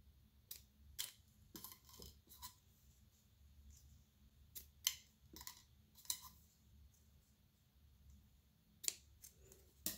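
Scissors snip through the edges of drinking straws for a bubble cell membrane craft: a series of sharp, quiet clicks at irregular intervals, with no talking.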